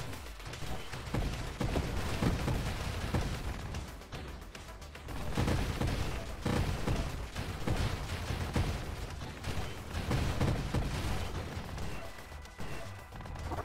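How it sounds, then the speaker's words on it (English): Rapid, dense gunfire from the space shooter Nova Drift, enemy ships firing at the player's craft in loud sustained bursts with brief lulls around the four- and twelve-second marks, mixed with explosions and game music. "Oh, stop shooting at me."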